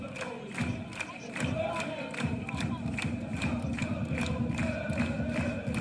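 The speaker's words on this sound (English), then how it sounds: "You can hear the Wrexham fans" Wrexham supporters chanting in a stadium during a League Cup match away at Preston North End, a rhythmic crowd chant rising and pulsing steadily at a distance, with a commentating voice faintly over it.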